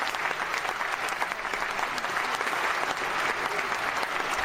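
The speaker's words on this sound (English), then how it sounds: "I should have just hit the applause when I hit the cough button." Canned applause sound effect triggered from a button, a steady wash of dense clapping and crowd noise that holds at even loudness for the whole stretch with no voices over it.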